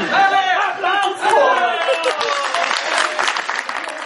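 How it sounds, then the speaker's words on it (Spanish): A live audience at a stand-up comedy night in Venezuela breaks into loud applause mixed with cheering and shouts, a dense close crowd roar that holds steady for several seconds. "¡Aplausos!"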